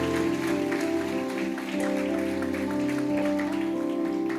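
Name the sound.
congregation applauding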